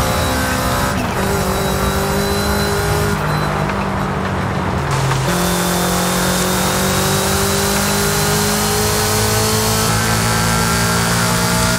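A Subaru S209 fitted with a body kit, driven in Forza Horizon 5, revs hard and sustains a loud, continuous engine roar whose pitch climbs and shifts through gear changes, with no voices over it.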